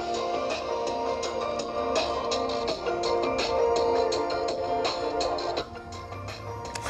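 Music plays through the small, thin-sounding speakers of an ASUS ExpertBook B1500 laptop, with busy rhythmic hits and a midrange-heavy tone, continuous for several seconds and dropping a little near the end.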